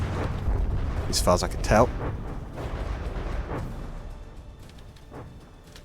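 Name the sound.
tank guns firing in From the Depths video game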